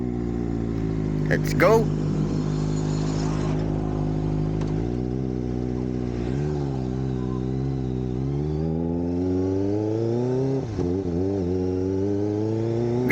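A Kawasaki Ninja ZX-25R inline-4 motorcycle engine on a test ride, loud and close, idling then revving and pulling away with rising, shifting engine tones, while someone talks over it.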